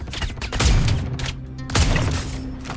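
Two loud bursts of gunfire in the video game Star Citizen, close and punchy, each followed by a ringing tail, spaced about a second apart over a steady background hum.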